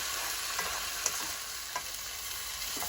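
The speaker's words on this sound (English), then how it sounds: "Remember to keep the food moving across the wok so that it doesn't stick." Vegetables stir-fried in a wok, a steady close sizzle with faint scraping stir clicks scattered through, no talking.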